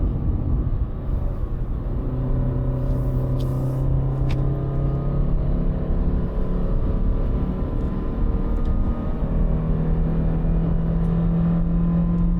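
Engine of a 2024 Honda City RS, a small 121 PS car, revving hard on a hillclimb road, a steady loud droning rumble with rising harmonic tones held throughout, no voices.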